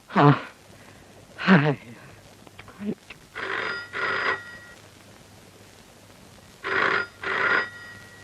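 An old telephone bell rings for a trunk call in two double bursts separated by a pause, loud and near, with brief speech-like sounds between the rings.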